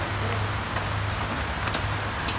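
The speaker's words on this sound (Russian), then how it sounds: "Наконец-то у нас дождик пошел, а то так душно." Steady rain falling outdoors on a garden, a continuous soft hiss with occasional sharper drops, close and even throughout.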